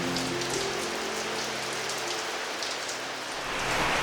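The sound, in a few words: evening rain falling outside a room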